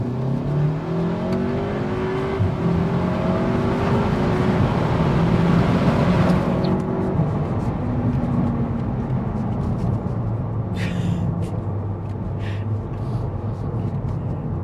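A modified Stage 2 VW Mk7 Golf R with DSG gearbox, about 400 hp, accelerates hard in race mode, its engine droning loud and steady from inside the cabin as pitch rises through the gears.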